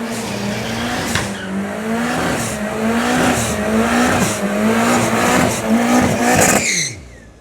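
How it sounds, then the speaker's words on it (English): A rear-wheel-drive car at a dyno and racing night does a big smoky burnout, its engine revving hard under a loud, sustained tire squeal that wavers in pitch, then cuts off abruptly near the end. "Likes a good big burnout"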